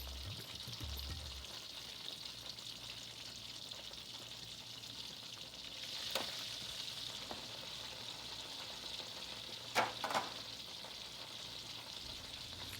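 Eggplant slices fry in oil over medium heat with a steady, fairly quiet sizzle throughout, broken by a couple of brief clinks or scrapes near the middle and end.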